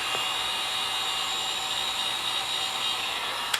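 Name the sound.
heat gun blowing hot air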